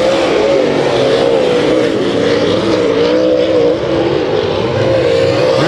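Late model race cars roar around Kings Speedway during a heat race, a loud, continuous engine drone with wavering pitch as the pack circles the oval, steady and unbroken throughout.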